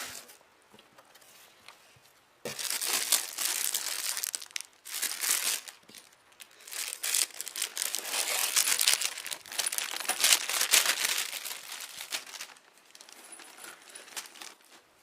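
Close, busy plastic bag crinkling and rustling in bursts with short pauses, like wrapping being pulled and worked loose from a yarn storage bag, with no talking.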